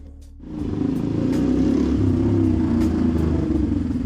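A Motorstar Explorer 250 V2 motorcycle with an SC Project slip-on exhaust idles loudly up close, then revs and holds a steady, throaty rumble with a raspy exhaust note, no voices present.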